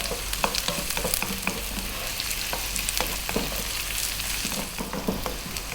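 Garlic and vegetables sizzling steadily in a hot pan while being stirred, a loud continuous fry with scattered clicks and scrapes from the utensil, close up and without speech.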